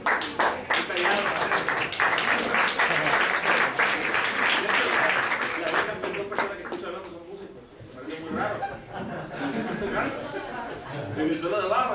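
A jazz café audience claps and cheers after a set: loud, dense applause with some laughter for the first several seconds, then thinning out as chatter, clinking glasses and scattered claps take over.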